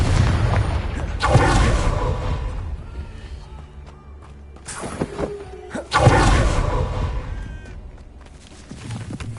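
Booming, whooshing explosions from the Confringo fire spell in Hogwarts Legacy, two big blasts several seconds apart with crackling debris and game effects between, loud and close.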